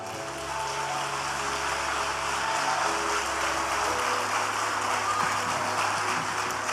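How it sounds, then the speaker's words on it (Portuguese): Church congregation applauding during a Portuguese-language sermon, a steady dense wash of clapping across the whole stretch, fairly loud and even, with a low hum underneath and no talk over it. "Dê um aplauso ao Senhor Jesus."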